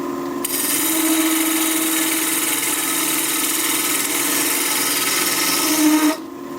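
A wood lathe turns a wood flower blank, cutting it down in diameter with a skew chisel, giving a steady, loud motor hum with a continuous scraping whine that runs throughout and cuts off near the end.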